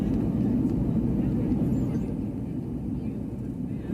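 Steady broadband rumble of a SpiceJet passenger airplane cabin in flight from Delhi to Darbhanga, with the air conditioning reportedly faulty; the drone stays constant and fills the whole stretch with no clear voices.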